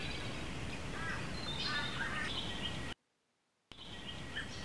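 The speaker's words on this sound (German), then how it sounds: "Ist das eine Dohle?" A jackdaw calling in the TKKG video game, short chirping caws over a continuous ambient bed, broken by a brief total dropout before the background resumes.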